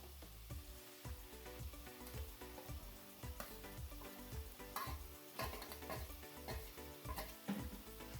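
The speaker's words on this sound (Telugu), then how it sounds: "ఇప్పుడు సాల్ట్ వేసుకొని సిమ్లో పెట్టుకొని ఇదంతా ఫ్రై చేసుకోండి" Ginger paste with salt and spices frying on a low flame for a chicken gravy, a soft, close sizzle broken by repeated scraping stirs in a steady rhythm, with no talk.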